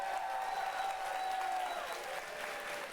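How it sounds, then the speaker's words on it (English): An audience claps for a few seconds, a dense, steady patter of many hands at moderate volume with no speech over it. "So give yourselves a round of applause for that."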